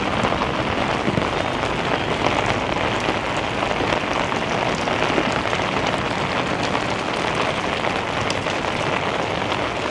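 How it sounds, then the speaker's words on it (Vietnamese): Steady, heavy rain pours down in Hanoi after Typhoon Yagi, a dense continuous roar of drops hitting surfaces with no pauses and no voices. "Mưa càng ngày càng nặng hạt các bạn ạ"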